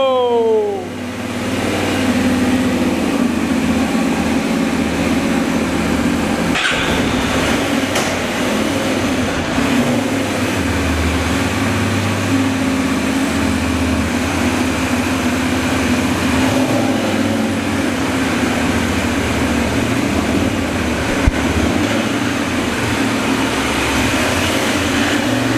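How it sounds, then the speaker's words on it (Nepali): A Benelli 752S motorcycle engine idles in a steady, loud, low rumble that holds almost unchanged for a long stretch, with a few brief clicks and knocks. "अब इन्जिन अन पनि भयो लेट्स स्टार्ट द बाइक"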